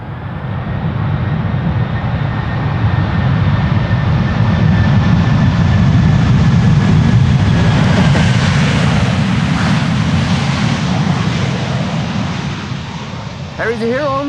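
An Airbus A330 jet roars loudly and steadily at Schiphol Airport, rising and then slowly fading, with a faint voice near the end.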